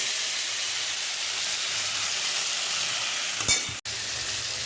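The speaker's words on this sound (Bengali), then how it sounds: "এগুলোকে আর একটু ভেজে আমি জল দিয়ে দেবো" Spices fry in oil in a pan for a thin singi fish curry, a loud, steady sizzling hiss running throughout, broken near the end by a brief clatter and a sharp momentary cut.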